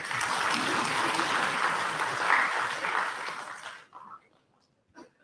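Audience clapping for Education Minister Mithilesh Tiwari at a public event: a dense, sustained burst of applause that stops abruptly after about four seconds, leaving near silence with a couple of faint stray sounds.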